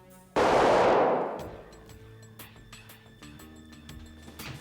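A single loud gunshot from a handgun in a TV crime drama, a sharp blast followed by a long decaying reverberant tail, with faint clicks and background hum after.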